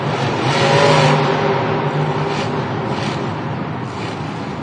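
A loud, heavy monster truck engine roaring and revving continuously during a stadium Monster Jam event, swelling in the first second then holding a strained, throaty drone.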